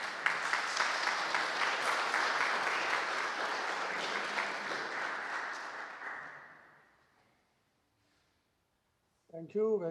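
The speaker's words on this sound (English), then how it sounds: "So please welcome our next speaker with an applause" An audience applauds to welcome the next speaker at a session on landscape and living traditions, sustained clapping that fades out to silence before a voice begins speaking at the end.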